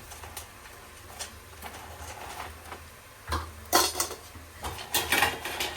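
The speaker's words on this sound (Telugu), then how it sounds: "ఇప్పుడైతే క్యాన్లో వేసేసుకుందాం ఎందుకంటే ఇక్కడ ప్లేట్ నిండిపోయింది" Crispy rice-flour jantikalu snacks tipped into a tin can in a home kitchen, producing scattered clinks, rattles and dry crunchy clatter that come in uneven bursts and get louder in the second half.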